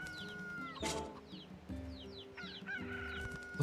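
Chicken clucks and crowing-like calls from the video game NieR Replicant, several short bursts over a steady game ambience with faint chirps, fairly quiet and mid-distance.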